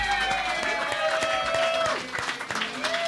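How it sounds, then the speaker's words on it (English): A crowd applauds a poet at a Chicago literary magazine release event, steady clapping at moderate distance with a sustained tonal ring over it and voices mixed in. "Everybody give him a round of applause."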